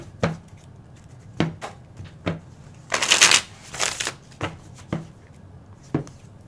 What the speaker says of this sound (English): you witnessed me shuffling